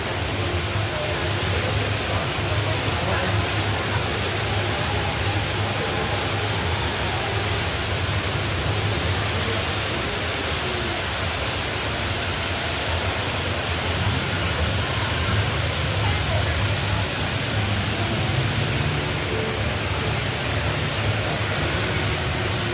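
The indoor waterfall at Jewel, Singapore Changi Airport, sends down a steady, dense roar of falling water that stays loud and unbroken throughout, with no clear voices over it.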